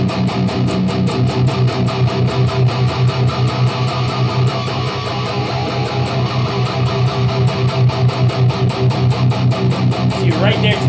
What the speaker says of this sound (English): So I'm just going to move my hand around and you can hear the difference in the sound. You're going to start hearing some harmonics.